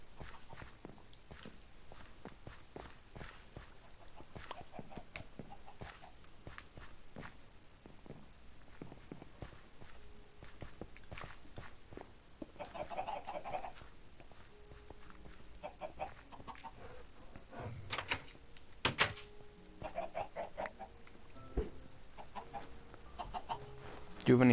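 Blocky farmyard chickens in Minecraft cluck in short scattered bursts among steady footstep taps, with a few louder clucks standing out late on.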